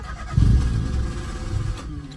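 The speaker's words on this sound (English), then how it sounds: "And starter motor's fucking me about." A Citroen C1 with a starter motor that is playing up cranks in a low, rough, continuous churn that swells briefly, close and loud, for about two seconds without catching.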